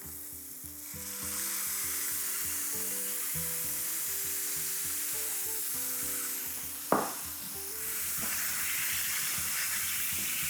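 Cherry tomatoes sizzling in a frying pan, giving a steady soft frying hiss under a low humming drone, with one sharp clatter partway through.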